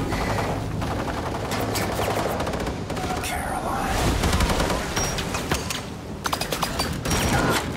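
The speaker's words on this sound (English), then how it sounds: "Shoot! Shoot! You shoot good, Max!" Rapid automatic gunfire and mechanical clatter from the video game Wolfenstein II: The New Colossus, loud and continuous bursts with game voices mixed in.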